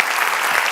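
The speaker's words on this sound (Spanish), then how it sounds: "El aplauso final, por favor." An audience gives a final round of applause for the panelists of a women's opinion event on stage, dense and continuous clapping over a brief moment.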